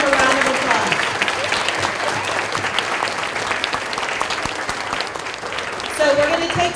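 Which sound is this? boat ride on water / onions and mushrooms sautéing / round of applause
round of applause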